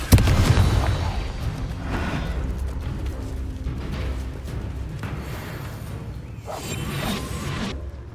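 A Confringo fire-blast spell cast in the Hogwarts Legacy video game, a loud whooshing, booming burst at the start that fades into a sustained rumbling battle din with further swishes and impacts.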